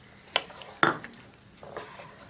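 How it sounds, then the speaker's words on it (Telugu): A spoon scrapes and knocks against a cooking pot while tamarind pulp and jaggery are stirred together for pumpkin pulusu, giving two sharp clinks followed by a softer scrape, close and fairly quiet. "ఒకసారి తిప్పుదాం."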